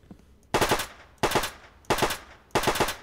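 Four short bursts of rapid automatic submachine gun fire in a video game, evenly spaced with brief pauses between, loud and punchy with no voices.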